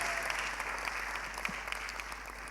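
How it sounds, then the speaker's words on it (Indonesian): A church congregation breaks into steady, dense applause, a continuous wash of many hands clapping together at close-to-medium distance with no voices over it. "Tepuk tangannya yang sangat mulia."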